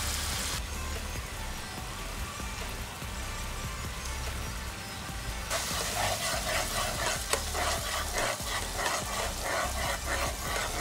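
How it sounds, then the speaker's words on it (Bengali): Egg curry masala fries in a pan while being stirred. A soft steady sizzle becomes a brighter, busier crackle partway through, with faint scraping from the stirring and no voices. "মশলাটা কিন্তু খুব ভালো করে নেড়ে চেড়ে নিতে হবে।"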